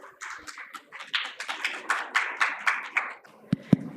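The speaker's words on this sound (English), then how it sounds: "Let's give them a warm applause" A conference audience at a session on rural women's financial services claps for about three seconds, a dense patter of hands that swells and fades, then ends with two sharp, separate claps.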